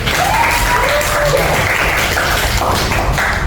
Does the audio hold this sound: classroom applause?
yes